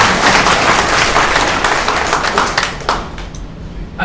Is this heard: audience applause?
yes